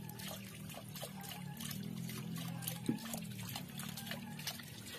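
Water trickles and splashes steadily as it drains out of a catfish tank beside a house, a faint continuous dribble with small clicks and knocks throughout.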